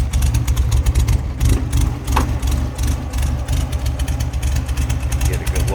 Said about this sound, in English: got a V-dub engine with a little bit of a can to it and rumble